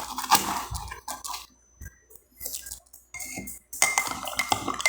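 A spoon stirs table salt into water in a glass, giving bursts of clinking and scraping against the sides separated by short pauses, close and fairly clear with no speech.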